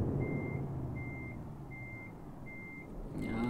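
Truck reversing alarm in Euro Truck Simulator 2, four evenly spaced electronic beeps over a low idling diesel engine rumble, followed by a brief hiss at the end.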